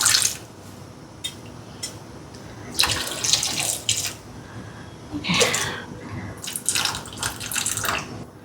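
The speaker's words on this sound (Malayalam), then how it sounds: "കുറച്ച് പുളി വെള്ളം ഒഴിച്ചിട്ടുണ്ട്" Tamarind water and plain water poured into a cooking pot in several bursts, splashing close by, with quieter pauses and drips between pours.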